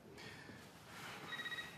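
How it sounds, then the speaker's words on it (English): Telephone ringing indoors, a short electronic ring pattern rising near the end, fairly soft beneath a room-noise background. "I believe that's your phone ringing."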